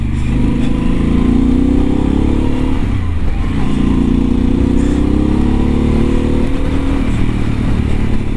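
Steady, loud engine drone of a Harley-Davidson Pan America motorcycle riding a back country track, holding a low, torquey rumble throughout with slight rises and falls in revs.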